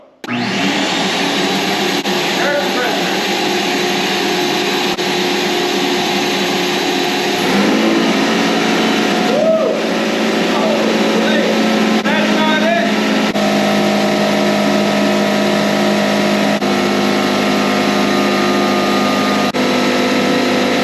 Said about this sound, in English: Compressor just kicked in.